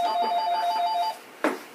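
A telephone rings with a bright electronic tone for about a second, then stops. A brief rustle or knock follows in a quiet room, with no talk.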